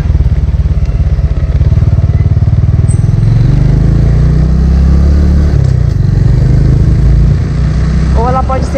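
A Honda Biz motorcycle engine runs loud and close, revving and then easing off as the throttle is released, with rough low-pitched engine pulses throughout and a brief voice near the end.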